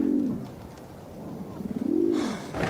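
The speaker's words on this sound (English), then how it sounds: "We really are going to have to do something about those birds." Pigeons cooing near a building: two low, rounded coos separated by a pause, close and fairly loud, with faint background noise.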